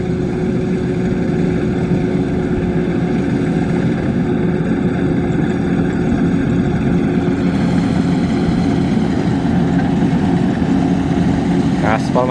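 A Kubota DC93 combine harvester working in a field at Josari, Jetis, Ponorogo, its engine droning loud and steady with a constant tonal hum throughout.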